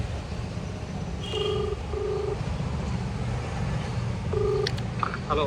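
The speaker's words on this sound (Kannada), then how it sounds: "ಫೋನ್ ಮಾಡೋಣ ಅವನಿಗೆ." A mobile phone call is placed outside a house, with a few short electronic beeps and tones in sequence over a steady background of street traffic noise, no talking.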